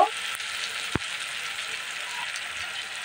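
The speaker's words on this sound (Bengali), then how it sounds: "দিয়ে মশলাটাকে ভালো করে ভেজে নেব" Ground spices fry in oil in a pan for a mashed fish dish, giving a steady close sizzle with one brief stirring clack near the start.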